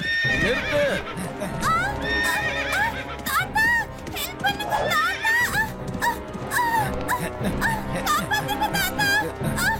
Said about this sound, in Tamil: நிறுத்து, அந்த குதிரையை நிறுத்து.